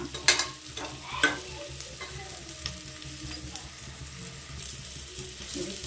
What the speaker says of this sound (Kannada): ಈರುಳ್ಳಿ ಸ್ವಲ್ಪ ಕೆಂಪು ಕಲರ್ ಆಗಂಗೆ ಫ್ರೈ ಮಾಡಬೇಕು.